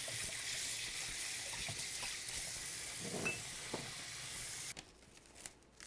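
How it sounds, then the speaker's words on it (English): Hands are washed under a running kitchen tap, a steady rushing spray of water that cuts off near the end, leaving faint clatters and handling noises. "need to wash my hands real fast"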